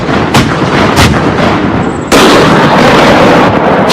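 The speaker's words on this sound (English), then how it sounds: "The recoil of the gun rocks the whole tank." A tank main gun fires in a loud, booming blast with sharp cracks and a heavy rumbling roar that jumps louder midway and continues.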